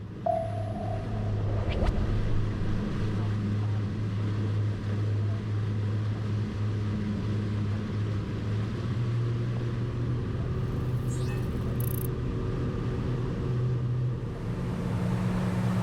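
A Mar.Co R-Evolution 26 rigid inflatable boat with 450 horsepower of outboard power, giving a steady loud engine rumble and drone throughout, a constant low hum with faint rising tones and no talking.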